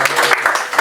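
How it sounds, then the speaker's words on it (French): Audience at a live inauguration event in Paris clapping for a speaker, a short loud burst of crowd applause with a pulsing, uneven rhythm, close and dense for under a second. "applaudissez Jacques Nézi, s'il vous plaît"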